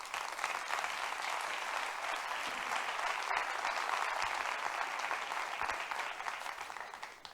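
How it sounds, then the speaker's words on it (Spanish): A conference audience in Valencia gives sustained applause to welcome Enrique Dans onto the stage, a dense, even wash of clapping that holds steady throughout at a moderate, somewhat distant level. "Un aplauso, por favor."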